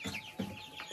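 Chicks in a warm chicken coop at a country dacha, a quick pair of bright, high cheeps close to the microphone over a short moment.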